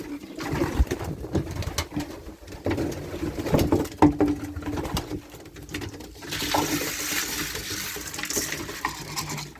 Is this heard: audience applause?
no